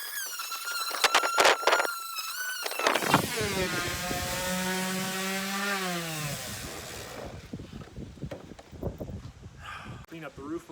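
A small power sander works wooden roof pieces for a craft build, its motor whining in rising and falling pitch sweeps, with sharp bursts and squeaks, close and fairly loud.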